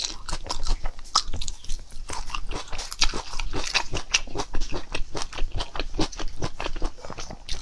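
Loud, close crunching of sauce-coated potato chips being eaten, a dense run of crisp bites and chewing crackles repeating rapidly without pause.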